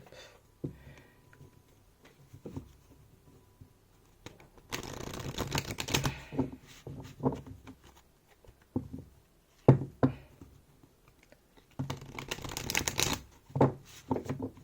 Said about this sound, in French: Donc on va demander à Ganesh 3 cartes